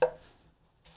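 A knife cuts through a yellow onion in one short crisp chop that rings briefly, then fades to near silence, followed by a faint scrape at the end.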